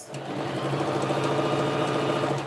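Sewing machine stitching a bag seam at half an inch, one continuous run of rapid, even needle chatter with a steady motor hum, close and alone.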